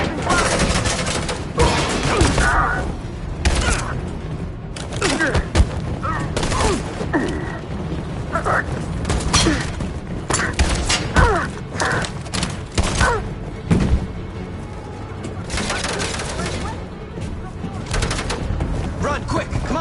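Heavy gunfire crackles through a firefight in the Detroit Become Human game, dense volleys of rapid shots and thuds rolling on for about twenty seconds while voices shout orders over the barrage.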